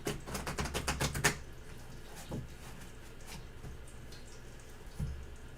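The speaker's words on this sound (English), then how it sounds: "One more quick shuffle." Tarot cards riffle-shuffled in a quick burst of rapid papery flicks, close and fairly quiet, followed by a few soft isolated taps as the deck settles, with no talking.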